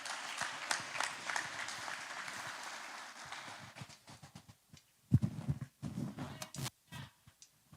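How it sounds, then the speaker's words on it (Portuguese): A church congregation claps together during a Sunday worship service, a dense burst of applause that thins out after a few seconds into scattered, quieter claps and sparse knocks. "E as palmas que louvam o Senhor."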